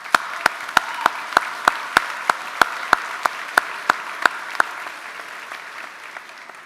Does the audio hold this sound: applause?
yes